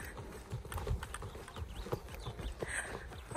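Horse hooves clip-clopping along a trail during a beginner's horseback ride, an uneven run of close, dull knocks repeating throughout with no talk.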